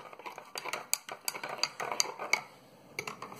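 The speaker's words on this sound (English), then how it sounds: "Mix in that milk, shall we?" A spoon clinks and scrapes against a bowl or cup as milk is stirred into a mixture, with rapid, uneven taps and scrapes close by that come in bursts, and no talk over them.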